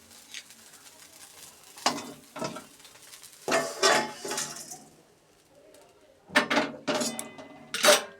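Fried soybean chunks lifted out of a kadai of hot oil, with several bursts of metal utensil scraping and clattering separated by quieter gaps, plus a faint sizzle in the background.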